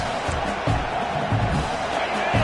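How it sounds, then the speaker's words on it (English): Stadium crowd at a Michigan versus Iowa State football game roars in a dense, continuous wall of cheering, loud and sustained throughout, with faint thumps mixed into the crowd noise. "This crowd, full throat, spreading the eardrums"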